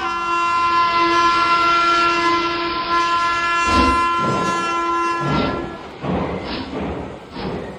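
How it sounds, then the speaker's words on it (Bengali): Passenger train pulling out of a station in a Bengali ghost story, with sustained horn-like tones giving way to heavy thuds and rolling wagon clatter as it slowly departs, loud and close with no voices. "যথাসময়ে ট্রেন ছাড়ল।"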